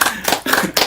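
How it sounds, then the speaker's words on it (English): Audience clapping in bursts, several loud rhythmic waves of claps close by with brief pauses between them. "This is the first time in here, so we're going to clap that up."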